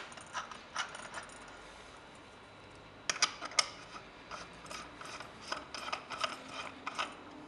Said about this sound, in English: Now we can screw our dispenser adapters back on.